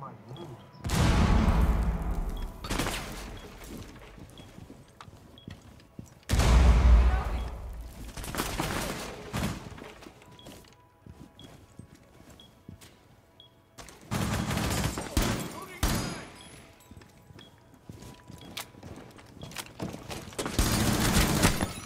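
Rainbow Six Siege gameplay gunfire arrives in loud, dense bursts of rapid shots and rattling automatic fire, three heavy clusters separated by quieter stretches where a player talks.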